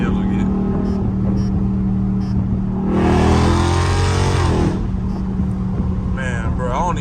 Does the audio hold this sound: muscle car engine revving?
yes